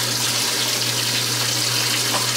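Water pours steadily and loudly into a washing machine filling up to wash scrubs and pillowcases, a continuous rushing flow with a low electrical hum underneath.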